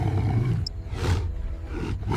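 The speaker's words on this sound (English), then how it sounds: "The hunter roars in pain, forced to release its prize." A lone lion facing a massive herd roars in pain, a loud, rough, continuous roar that fills the whole stretch over heavy low rumbling.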